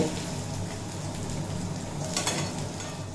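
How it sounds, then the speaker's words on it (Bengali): Paneer shallow-frying in oil, a steady low crackle and sizzle running throughout, moderately quiet and unbroken by voices. "দেখুন পনির অল্প ভেজে নিয়েছি"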